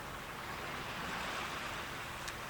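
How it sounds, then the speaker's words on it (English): Small, low waves washing onto a beach at Inverness, a steady soft hiss of surf with light wind noise, faint and continuous with nobody talking. "Very low waves, but it's waves enough."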